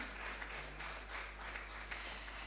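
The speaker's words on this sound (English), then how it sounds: "A round of applause, ladies and gentlemen." Audience at a media launch for a diaspora summit clapping for a guest, a faint, steady wash of applause under a low constant hum, with no voices.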